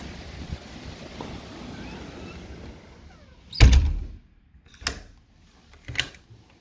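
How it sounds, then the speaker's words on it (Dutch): Gusty wind ahead of an approaching rain squall outside a house, a steady rushing roar broken by several loud buffeting thumps from strong gusts hitting the microphone. "De wind die hakt er wel in, hè?"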